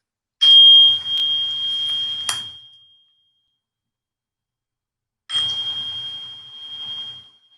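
A small handbell is rung twice, each a bright sustained ring that slowly fades, with a few seconds of silence between the two strikes.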